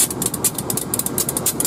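A passenger train hauled by a CC 203 locomotive stands at Bayeman station, its diesel engine idling in a steady, moderately loud rumble with a rapid pulsing hiss from the train itself throughout.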